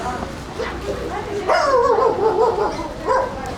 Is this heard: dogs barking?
yes